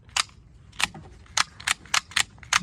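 A loose blade on a cheap OTF knife clicks sharply seven times in about two and a half seconds, close and crisp, in an irregular rhythm with a quiet background.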